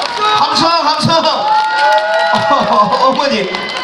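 An audience at a market festival concert cheers and claps in a lively burst, with shouting voices and scattered applause blending into a loud, continuous crowd roar.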